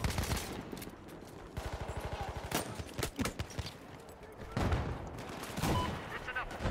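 Rapid bursts of RSC SMG submachine gun fire in a Battlefield shooter game, with a steady stream of closely spaced shots around the middle and more scattered reports and explosions throughout, loud and close.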